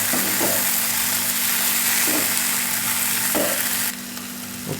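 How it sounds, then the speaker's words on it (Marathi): Sliced capsicum sizzles steadily in a hot pan for a Maharashtrian shimla mirchi bhaji, with a few soft scraping stirs breaking through the continuous frying hiss and a low hum beneath; the sizzle drops slightly near the end. "हे सगळं मिक्स करून घ्यायचं."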